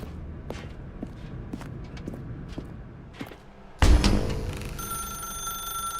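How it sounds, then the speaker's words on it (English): Footsteps tread along steadily in The Stanley Parable, then a telephone suddenly starts ringing loudly with a bright, sustained electronic ring that continues to the end. "Now pick up the phone,"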